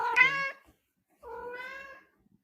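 Domestic cat meows twice, close and clear, a short rising call followed after a pause by a longer, softer meow, with silence between.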